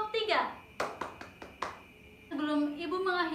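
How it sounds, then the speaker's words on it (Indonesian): A small class in a primary school mathematics lesson claps for a presenting group, giving about five quick, separate claps between stretches of an adult voice talking. "Beri tepuk tangan untuk kelompok 3."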